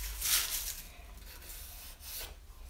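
Strokes of a low angle hand plane taking fine shavings off soft wood, two or three close, soft hissing passes with quiet gaps between.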